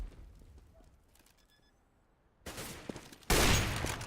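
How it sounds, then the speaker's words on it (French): Two sudden loud bursts of rapid gunfire ring out in a competitive Counter-Strike: Global Offensive esports match, following quieter game ambience and faint beeps, with no commentary over them. "Zeus qui va tomber quand même sous les balles de Markelov"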